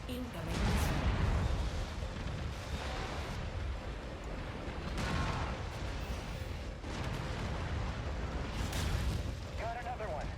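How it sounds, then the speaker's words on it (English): Heavy missile explosions in a mech combat video game, several loud booming blasts rolling over a constant low battle rumble, with someone talking now and then. "Incoming missile."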